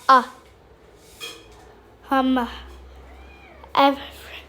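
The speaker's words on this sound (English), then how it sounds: "oh, that's my cat." A pet cat meows several times in short, close, fairly loud calls, separated by pauses, in a quiet room.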